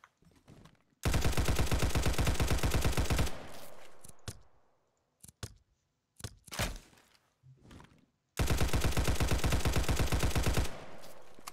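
Automatic rifle fitted with a flash hider firing in the shooter game Unit Classified: two long, loud sustained bursts of rapid gunfire separated by a gap of scattered single shots and mechanical clicks.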